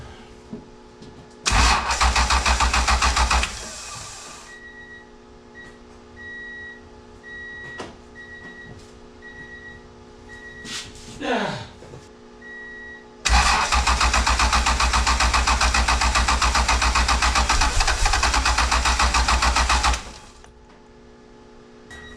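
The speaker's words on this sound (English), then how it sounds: "I'm gonna go try to turn the key, see what happens, see if we get any pressure at all." A J-swapped Honda NSX engine cranks on the key in two long bursts with a steady, rapid whirring starter drone, close and loud, and never catches. Between the bursts comes a quiet gap with a brief rising squeak.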